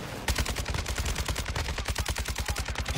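Rapid automatic gunfire from a video game firefight, a dense, steady burst of loud shots repeating evenly for about three seconds with no talk over it.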